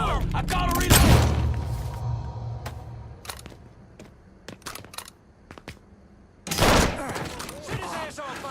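Gunfire in the video game Mafia 3: loud bursts of automatic fire at the start and again near the end, with scattered single shots between, and voices talking over the action.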